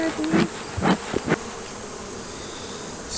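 Honey bees buzz at an open beehive during late-summer maintenance and honey harvest, a constant close, high drone with a few soft knocks and bumps near the start.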